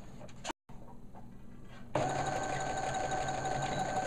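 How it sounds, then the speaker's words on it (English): A sewing machine runs steadily on fabric while stitching a back stitch on a store-bought dress, starting up after a brief pause and then droning continuously at close range. "So we are going to take a stitch and do a back stitch to lock it in place."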